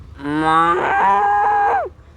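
A young voice imitates a cow, giving one long, drawn-out moo that rises, holds steady and then falls away, loud and close.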